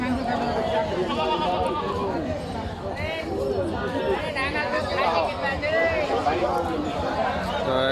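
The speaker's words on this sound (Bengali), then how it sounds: "এখানে একটা বিশাল বড় ছাগল দেখতে পাচ্ছি" A large goat bleats at the Bogura Dhap Sultanganj livestock market. The calls are repeated and wavering, heard amid the steady chatter and talk of a crowded haat.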